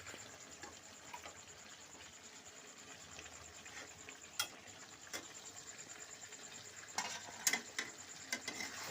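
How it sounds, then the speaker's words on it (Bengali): Chicken is stirred with ground spices in a pan for a village-style chicken kosha. There is a soft, continuous sizzle under scraping stirs, and several sharp clicks and knocks of the spoon come near the end. "তাতে ভালো করে নাড়িয়ে মিক্স করে নিতে হবে"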